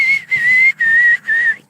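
A person whistles up close, three sustained steady notes separated by short breaths, clear and fairly loud with no talking.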